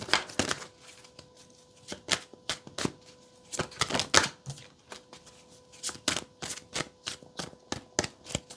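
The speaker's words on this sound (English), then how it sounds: "Hold on. Cards are all flipping over." Tarot cards shuffled and flipping over in rapid dry bursts, a string of crisp papery slaps and riffles spread evenly across the stretch, close and fairly quiet, with no talking.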